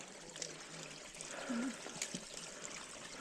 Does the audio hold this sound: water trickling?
yes